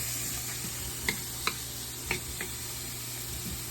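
Onions fry in a pan, a steady soft sizzle broken by a few sharp clacks of a utensil stirring against the pan.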